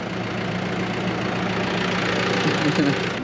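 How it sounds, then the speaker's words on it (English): An old tractor engine idles and runs steadily up close on a farm during hay baling, a constant low mechanical drone with no break. "Mix, you don't mind the old tractor driving?"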